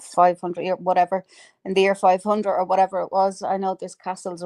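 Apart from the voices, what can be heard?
No everyday noise stands out behind the speech.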